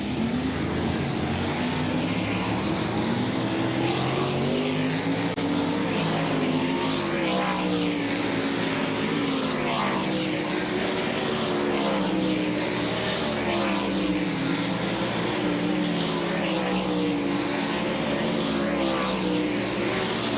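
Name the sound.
World of Outlaws sprint cars practicing on speedway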